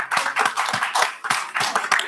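A short burst of applause at a city council meeting, a small group clapping in rapid uneven rhythm, close and clear with no talk.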